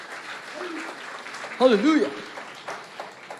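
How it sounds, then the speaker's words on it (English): Church congregation at a Mission Sunday service clapping as an offering to the Lord, a steady wash of applause running through the clip while a loud voice calls out over it. "Let's give the Lord the best clap offering."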